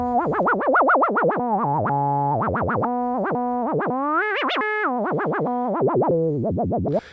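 Warbling tones from a Roland SH-101 synthesizer with sine modulation on oscillator and filter, wobbling pitch and filter sweeps, loud and continuous, sounding like playful electronic chirps and yodels.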